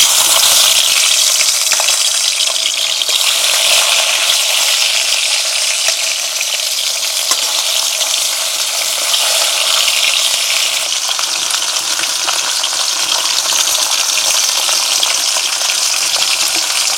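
Koi fish frying in hot oil produce a loud, dense, continuous crackling sizzle that holds steady throughout with no voices.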